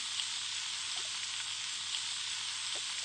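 Food sizzling in a pan, a steady close hiss of frying with a few faint stirring clicks and no talking.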